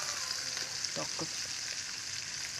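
Pork meat frying in a pan, a faint continuous sizzle and hiss with a couple of brief clicks, heard close with a voice briefly over it.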